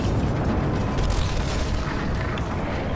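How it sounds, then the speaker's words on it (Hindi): A missile launch in Call of Duty Ghosts from an underground silo, a sustained loud roaring rumble with a broad, dense blast that holds steady throughout. "मिसाइल को लॉन्च करता हूँ यहाँ से"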